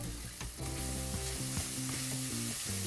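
Cinnamon powder sautéing in a pan for a chicken-in-black-beans dish sizzles steadily and close, with stirring scrapes over a low background hum and no talking.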